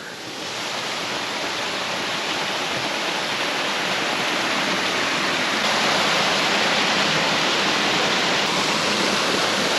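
A mountain stream pours through a built channel inside an abandoned building, a loud, dense, constant rush of water filling the space without pause.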